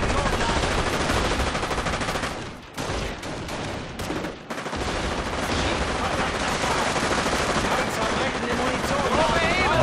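Enemy gunfire in the WWII strategy game Company of Heroes, Tales of Valor battle for Cauquigny: dense, continuous bursts of rifle and machine-gun fire with brief lulls, loud throughout, mixed with voices.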